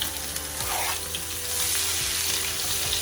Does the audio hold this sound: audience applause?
no